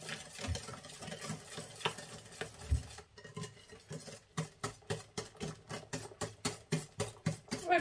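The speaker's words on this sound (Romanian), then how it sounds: "Voi continua să amestec cu telul foarte bine cacao și amidonul de porumb." A whisk beats cocoa and cornstarch into cold milk in a bowl, a rhythmic series of quick swishing strokes that pause briefly, then resume faster and more regular, with no talking.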